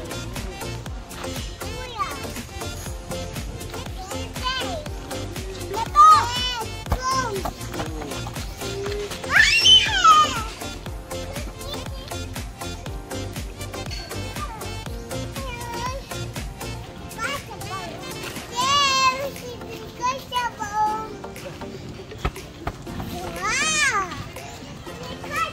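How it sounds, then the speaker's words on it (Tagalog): Children playing at a playground during a family outing in Boracay, their overlapping voices, shouts and squeals carrying steadily throughout, with several louder bursts of excited cries above the continuous chatter. "nag-e-enjoy naman ang mga kids sa playground"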